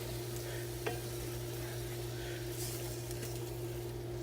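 Burrito filling with minced garlic is stirred in a hot pan, a steady low sizzle running throughout with a single soft scrape of the utensil and a steady hum behind it.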